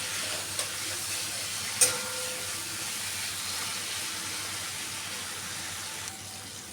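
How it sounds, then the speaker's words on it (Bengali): Spice masala with three green chillies sautéing in a pan for a potato and pointed gourd curry, a steady gentle sizzle with an occasional clink of the stirring spoon, close and continuous. "মশলাটা হয়ে গেছে কষানো"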